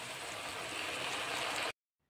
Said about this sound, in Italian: Aggiungi acqua.